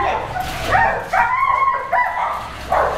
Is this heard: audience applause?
no